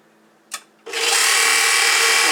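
A repaired KitchenAid stand mixer switches on at low speed after a short click, settling into a loud, steady motor whir that holds without a break to the end.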